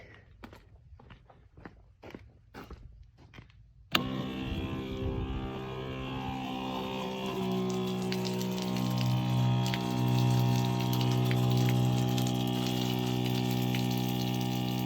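A few quiet clicks and footsteps, then an electric pump on a 4x4's 60-litre water bladder starts abruptly and hums steadily, with water trickling and rising in pitch as it runs.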